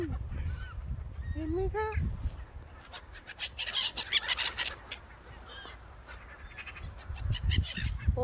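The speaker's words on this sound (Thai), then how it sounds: "นี่ค่ะห่านดำเลยค่ะเห็นไหมคะทุกคน" A flock of black geese honks repeatedly at close to middle distance, sharp overlapping calls rising over outdoor rumble, while someone talks briefly over them.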